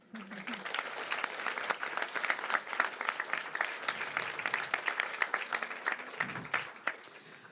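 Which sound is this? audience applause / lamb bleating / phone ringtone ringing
audience applause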